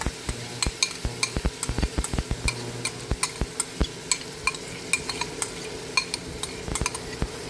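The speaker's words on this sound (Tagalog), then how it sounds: "lagay na po natin ang ating corned beef. Maluto na po ang ating corned beef." Corned beef sautéing in a pan for Christmas spaghetti, a spoon clinking and scraping against the pan in a quick, steady rhythm over a low sizzle.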